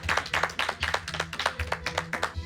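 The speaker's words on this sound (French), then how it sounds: "On peut l'applaudir, on peut l'encourager." Small group clapping for a chef at an unusual Parisian dinner, close and fairly quiet, with distinct uneven claps in a loose rhythm.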